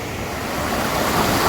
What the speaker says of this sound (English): it's still an impressive little waterfall after all this rain